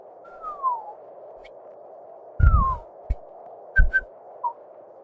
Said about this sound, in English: It's the slide whistle sound.